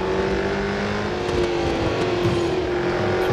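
Holden and Ford supercars race in Real Racing 3 on the Melbourne circuit, their engines holding a loud, steady, high-pitched drone up close, with no talking over it.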